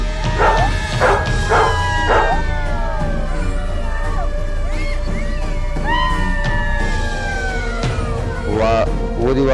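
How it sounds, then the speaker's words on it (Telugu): Dogs and jackals barking and howling in the rain at night: several sharp yelps and barks early, then long wavering howls rising and falling, layered over a steady noisy background. "ఆ వర్షంలో నక్కలు కుక్కలు అరుపులు శబ్దాలు వినిపిస్తున్నాయి"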